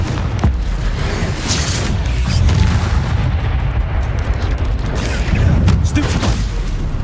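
Confringo fire-spell explosions in Hogwarts Legacy boom repeatedly in dense, loud bursts over a continuous rumble of combat.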